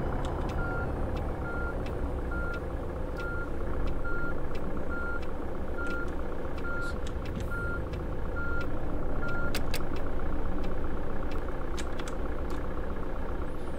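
A truck's reversing alarm beeps in a steady, evenly spaced series throughout, heard over the continuous rumble of the idling truck engine from inside the cab, with no talk.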